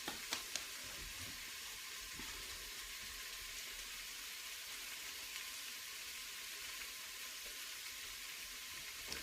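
Apples, onions and garlic frying in oil in a pan, with a steady, bright sizzle that holds evenly throughout and a couple of sharper pops near the start, close and alone.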